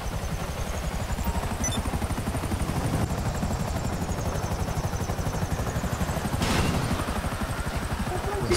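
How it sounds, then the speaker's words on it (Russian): Helicopter in the video game GTA 5, a loud, continuous rotor thump with rapid rhythmic chopping and a high turbine whine, steady and close for the whole stretch. "Садитесь все в вертолет."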